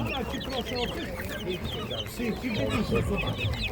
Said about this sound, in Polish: Kurczaczki mamy śliczne, ładne.